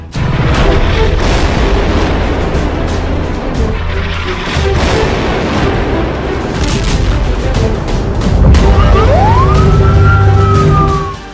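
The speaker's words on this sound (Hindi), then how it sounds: "ये धमाके तो बहुत छोटे हैं" War news footage with deep booming explosions and rumble under a wailing siren that rises and holds near the end, loud and dense throughout.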